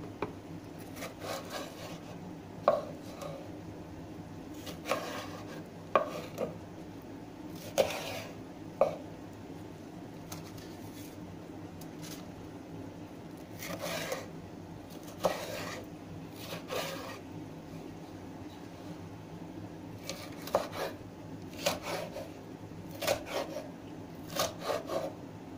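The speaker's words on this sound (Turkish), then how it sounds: "ince ince dilimliyor ve kareler halinde kesip doğranılıyor" A knife chops red peppers into squares on a board, with sparse close taps and soft scraping spread out over a low steady hum.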